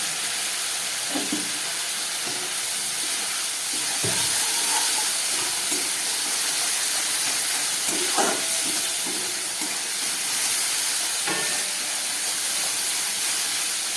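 Ground spice paste with a splash of water and tomato sizzles and fries steadily in a pan for a Bengali bhola fish curry, a continuous close hiss with occasional soft stirring knocks.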